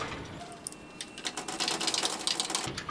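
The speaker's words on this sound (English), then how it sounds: "And then we'll just drop our two screws in there really quick." A pair of screws being driven into a replacement latch on a sliding screen door, heard as a close, busy run of small metallic ratcheting clicks and taps with short bursts of gritty mechanical whirring.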